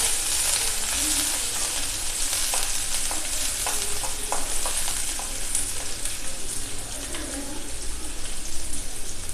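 A medium onion sautéing in a pan: a loud, continuous dense sizzle with soft stirring scrapes woven through, close up and unbroken.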